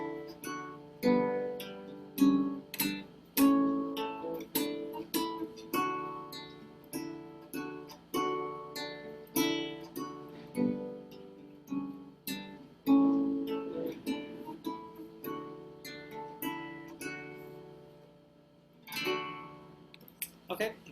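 Solo guitar plays a four-bar songwriting exercise, then repeats it, in steady plucked and strummed notes at moderate volume with a clear, regular rhythm. A brief tonal voice-like sound comes near the end.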